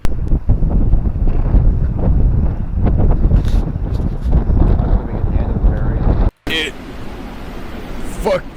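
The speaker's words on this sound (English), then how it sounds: "Fucking windy!" Strong northerly wind of about 50 km/h buffets a microphone on a motorcycle ride, a loud continuous rumbling roar for over six seconds, then a brief cut and a quieter, steadier rush of wind.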